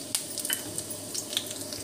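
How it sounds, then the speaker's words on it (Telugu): Dried red chillies sizzle in hot oil as tempering for chutney, a soft steady frying hiss with a few sharp crackles and pops scattered across it, close and fairly quiet. "పోపు అయితే పెడుతున్నాను చట్నీకి."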